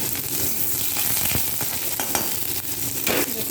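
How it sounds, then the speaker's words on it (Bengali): Crushed garlic and chopped onion frying in a pan with panch phoron, a loud, close sizzle broken by scraping stirs and a few sharp clatters of the spatula against the pan. "একটু ভালো করে ভেজে নিই। পেঁয়াজ রসুনটা লাল লাল করে ভাজা হয়ে গেলে"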